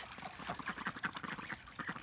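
A small flock of domestic ducks quacks close by in a rapid, overlapping string of nasal calls.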